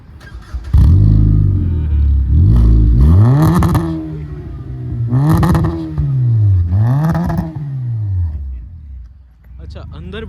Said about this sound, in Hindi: एग्जॉस्ट सुना देते हैं पब्लिक को